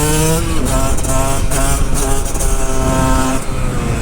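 Two 125cc motorcycles, one two-stroke and one four-stroke, rev hard in a drag race, loud close engine wails climbing in pitch through repeated gear changes, with overlapping engine notes and no talk.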